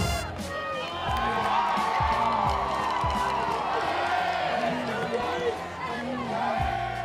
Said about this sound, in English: they wowed the crowd from the stands as Winston-Salem State's band injected a little extra energy into the